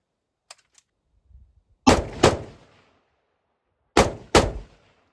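Gunfire from a firearm fitted with a homemade muzzle brake milled from a blank: two quick pairs of sharp, loud shots, each pair a blast and a second crack a fraction of a second apart, with quiet gaps between.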